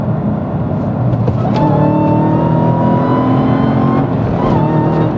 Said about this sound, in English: I'm gonna slam it into 3rd and we'll do a quick pull here.